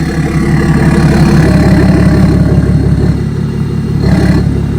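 A deleted BMW X5 diesel sits at idle, its engine loud and rough with a rapid, throbbing pulse and a low rumble that stays steady throughout, heard close and alone.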